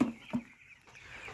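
A young broiler chicken, about fifteen days old, gives two brief clucks while being weighed on a scale, near and fairly loud, then only faint room noise follows.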